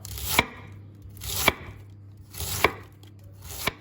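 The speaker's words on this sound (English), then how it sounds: "and for that you're going to start just cutting up your cabbage" Knife slicing cabbage thinly on a cutting board: four crisp, evenly spaced cuts, each a sharp crunch ending in a firm tap on the board, close and clear with no talk.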